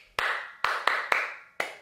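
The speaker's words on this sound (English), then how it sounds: "so clap for me" Five sharp, close hand claps ring out one at a time, unevenly spaced over under two seconds, each crisp and dry against near silence.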